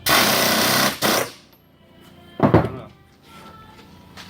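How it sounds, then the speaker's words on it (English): Rivets being tightened on 1969 Camaro ball joints with a tool in a vise, a loud grinding burst up front, a brief second burst, then a heavy clunk after a pause. "We're going to tighten this thing up, not real tight, but snug enough to hold the rivets in place."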